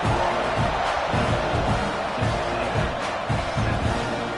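A stadium crowd at a USF versus Texas A&M college football game roars steadily before kickoff, a broad, dense wash of cheering that holds at a constant level throughout.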